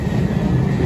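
A train pulls into Khanna Railway Station in India, its heavy, steady rumble of rolling wagons filling the whole moment close by, with no voices heard.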